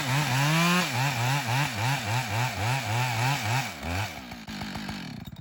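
A chainsaw bucks a log into shorter firewood sections, its engine loud and close with a steady cutting drone that bogs and pulses rhythmically through the wood before easing off near the end.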